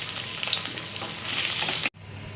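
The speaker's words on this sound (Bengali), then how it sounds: "এখন আলুটাকেও আবার ভেজে নেবেন একটু।" Potatoes frying in a pan for a potato and long bean dish, a dense, loud sizzle with stirring, cutting off abruptly and returning quieter.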